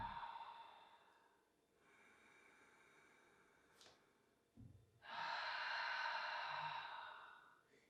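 Slow deliberate breathing into the rib cage during a relaxation exercise, close and soft, with a gentle inhale, a pause, then a long airy exhale.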